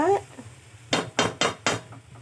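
Masala being stirred in a pan, heard as four evenly spaced scraping clinks of a spoon against metal, close and fairly clear over a quiet background.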